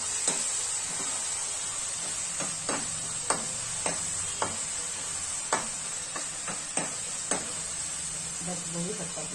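Onion and tomato frying in a pan for a leftover khichdi tadka, a soft continuous sizzle punctuated by regular sharp clicks of a spoon stirring against the pan.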